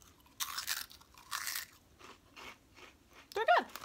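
Fried crunchy snack chips are bitten and chewed close to the mic in several sharp crunching bursts separated by short pauses, ending with a brief vocal sound.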